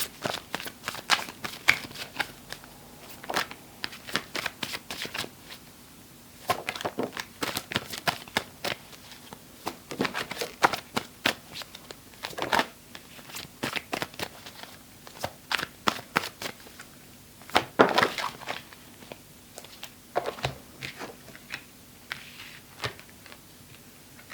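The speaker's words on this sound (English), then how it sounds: "I'm still shuffling, so getting them together" Tarot cards shuffled by hand in quick repeated bursts of riffling and flicking, close and fairly quiet, with brief pauses between rounds and no talking.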